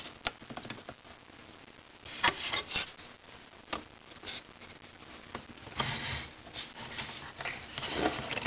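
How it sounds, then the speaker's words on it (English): Sanding putty-filled seams on a plastic 1/48 Revell A-6E Intruder model kit: quiet, steady rubbing and rasping strokes with occasional sharper scrapes, close up throughout. "I filled the seams with putty and sanded it smooth."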